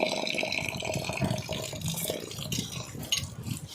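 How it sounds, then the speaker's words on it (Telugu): Rice with black gram, chana dal, moong dal and toor dal is rinsed in water, giving a continuous close swishing and splashing with faint dripping and no talking. "ఈ ఐదు రకాల పప్పుల్ని కొంచెం కడుక్కొని శుభ్రంగా ఏమీ డస్ట్ ఏమీ లేకుండా"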